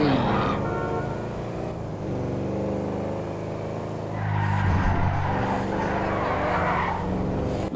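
In GTA 5 driving, a car's tires screech as it slides into a drift, the engine roaring and wavering underneath, with the squeal swelling louder partway through; no one speaks over it.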